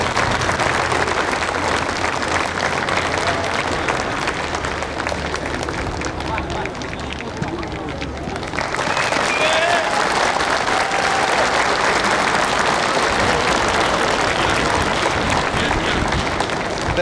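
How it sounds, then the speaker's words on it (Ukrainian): A football stadium crowd applauds a Ukrainian soldier, steady dense clapping filling the whole stretch with a brief dip midway, with a voice over the noise. "Вітаємо оплесками мужнього українського воїна."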